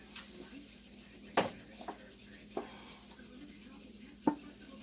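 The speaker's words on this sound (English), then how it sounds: "since I am frying onion in the pan" Soft sizzle of onion frying in a pan under occasional sharp scraping and clacking as it is stirred.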